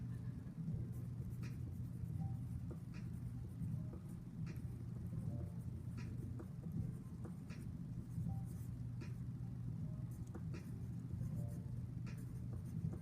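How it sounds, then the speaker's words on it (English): Handwriting close by, a pen or marker scratching in short irregular strokes over a steady low rumble, faint overall with no voices. "I'm going to write it down here."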